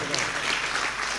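Audience applause at a devotional comedy gathering, a dense wash of many hands clapping together, loud and continuous through the whole moment, with voices mixed in.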